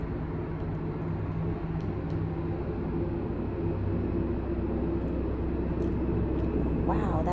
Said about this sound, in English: Wow, that helicopter is really close